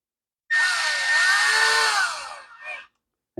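A variable-speed power tool whirs up and runs for about two seconds while driving screws on a Poulan Pro carburetor, pitch rising and falling slightly, then a short second burst; loud and close.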